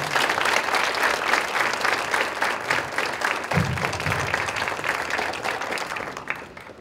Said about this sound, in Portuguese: eu queria uma salva de palmas para eles